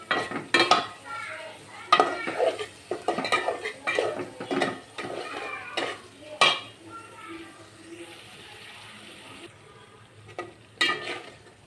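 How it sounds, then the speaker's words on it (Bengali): Pangas fish head stir-fried with masala in a pan, heard as loud scraping and clattering of a spatula against the pan with a light sizzle underneath, in bursts that fade toward a quieter stretch. "এখন এই যে দিয়ে দিব পাঙ্গাস মাছের মাথাটা, মাথাটা দিয়ে ভালোভাবে কষিয়ে নিব।"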